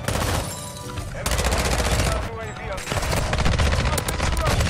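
Rapid SMG bursts from the ISO 45 in Call of Duty: Modern Warfare II, loud and near with brief gaps between strings of shots, while a player talks over the firing.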